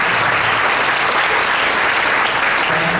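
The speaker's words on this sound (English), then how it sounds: "Round of applause for the saxophone section." An audience at a sixth grade winter concert applauds the saxophone section, giving a steady, loud, dense wash of clapping with no talk over it.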